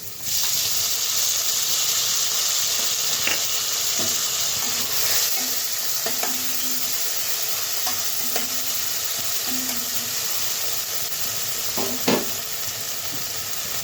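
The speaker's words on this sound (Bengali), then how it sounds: "তো টমেটো আর পেঁয়াজটা ভাজা ভাজা হয়ে গেছে।" Chopped tomato and onion fry in a pan, a constant bright sizzle and hiss with occasional scrapes and stirring knocks from a utensil, close and loud, with no talk.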